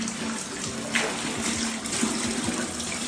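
Tap water runs steadily, rinsing calamansi under the faucet, a continuous close splashing stream with small bursts as the fruit shifts, no talking.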